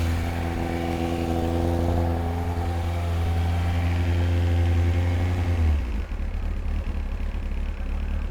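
A Kawasaki ZX-9R superbike engine, just fitted with a new clutch, runs at a steady, loud idle with a deep even drone, then the note drops and roughens near the end as it settles.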